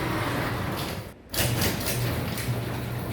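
A garage door unlocked by a wireless keypad rumbles open in a steady, loud mechanical whir after a brief pause, heard close with no talking.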